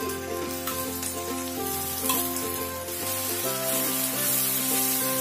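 Tomato puree and curd hitting a hot pan for Mughlai chicken: a continuous loud hiss and sizzle, close up and without talk, over steady background music tones.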